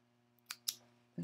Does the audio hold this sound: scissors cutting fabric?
yes